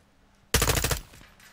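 A short, loud burst of rapid automatic gunfire in Call of Duty: Modern Warfare II, about half a second of close rattling shots fading into a brief tail.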